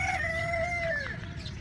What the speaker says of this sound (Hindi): मुर्गा भी बोल रहा है, मुर्गा भी लगता है लेट उठा है आज।